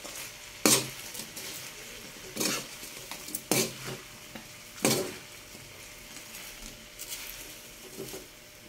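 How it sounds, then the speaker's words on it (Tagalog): Shrimp sautéing in a pan is stirred with a utensil, giving several distinct scraping, clattering strokes over a soft, faint background sizzle. "Haluin ko lang natin mga kakulot ng ating hipon na lahok."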